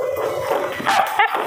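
An aggressive Malinois puppy barks and yelps in short, sharp bursts during a socialization session, loud and close, with a couple of higher whining yips near the end.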